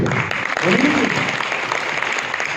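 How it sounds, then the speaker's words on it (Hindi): A seminar crowd keeps up steady applause for a couple of seconds, the clapping fairly loud and even, with a voice briefly rising above it early on. "नहीं, इनके लिए तालियां कम क्यों?"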